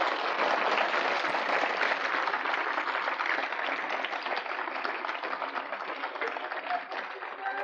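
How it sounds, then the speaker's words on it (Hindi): Audience applause at a Rajarajeshwari initiation ceremony, a steady dense wash of clapping from a crowd that holds at an even level through the whole stretch with no pauses. "ताली बजाइए आप जोर से।"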